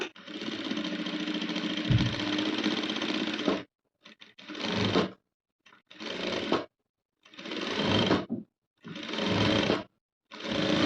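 Domestic sewing machine stitching the back part of a Chinese collar blouse at 2.5 stitch length, a long steady whir followed by four short bursts of running with quiet pauses between, close and alone.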